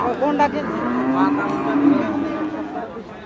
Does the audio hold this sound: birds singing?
no